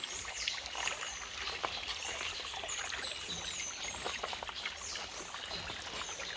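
Artesian spring water trickles and splashes continuously close by into pools, a constant bubbling flow with no voices.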